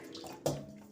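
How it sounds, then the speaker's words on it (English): Kunde cowpeas being rinsed in a bowl of water: a short splash and slosh near the midpoint, with a steady wet swish before and after. "going to rinse it twice"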